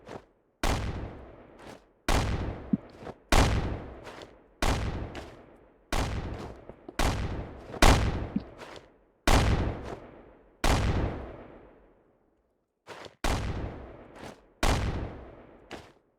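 Heavy cannon fire booms in a video game, about a dozen loud single blasts spaced roughly a second or so apart, each one ringing out and decaying before the next.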